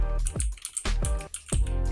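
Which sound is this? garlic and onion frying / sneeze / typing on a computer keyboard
typing on a computer keyboard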